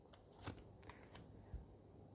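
Tarot cards shuffled softly and close by, a few quick riffles and taps scattered over two seconds, faint and quiet with no talking.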